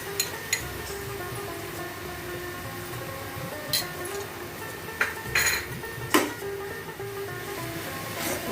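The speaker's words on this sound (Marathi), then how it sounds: "पुन्हा एकदा चांगलं परतून घेऊया." Semolina modak filling stirred and roasted in a pan, a steady low scraping and sizzling background with occasional sharp clinks of a spoon against the metal, close by, without speech.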